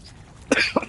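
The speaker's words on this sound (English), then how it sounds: "I don't know why I even coughed." A single person's cough bursts out abruptly over quiet background, followed shortly by a second smaller cough or throat sound, close and fairly loud.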